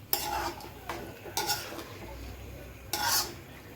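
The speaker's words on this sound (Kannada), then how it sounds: "ಈಗ ನೋಡಿ ನಾನು ಇದನ್ನೆಲ್ಲ ಮಿಕ್ಸ್ ಮಾಡ್ಕೋತಾ ಇದ್ದೀನಿ" Chilli chicken ingredients stirred and mixed in a pan with a utensil, giving a few scraping, clattering bursts separated by short pauses, close and moderately loud with a faint sizzle underneath.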